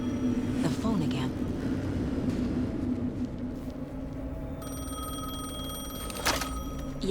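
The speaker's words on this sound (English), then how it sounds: "The phone again." In the video game Alan Wake 2, a telephone starts ringing partway through with a steady, electronic tone, heard over a low ambient hum and murmur.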